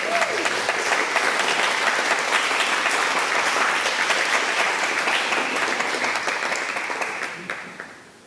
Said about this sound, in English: can you please stand up and get a little bit of applause?